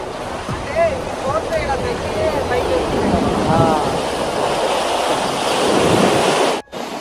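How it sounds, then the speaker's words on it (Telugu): Water rushes heavily through the gates of Prakasam Barrage in a continuous, loud, close roar, while people talk over it. "ఇది వాటర్ బాగా వస్తున్నాయి"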